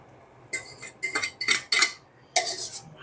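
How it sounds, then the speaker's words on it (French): Eggs going into a pan for a Basque piperade, with several bright metallic clinks and scrapes of utensils against the pan in quick irregular bursts, close and fairly loud. "On va ajouter les œufs."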